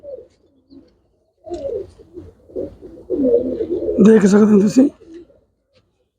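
Pakka thalla pigeons coo softly nearby while someone talks over them, the bird sounds mostly sitting beneath his voice, which grows louder and busier toward the end.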